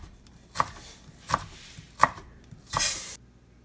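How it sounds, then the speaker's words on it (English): A knife shreds ginger on a cutting board: four crisp, evenly spaced chops close up, the last one longer and scraping, with no voices. "So what I like to do with my ginger is shred them nice and skinny."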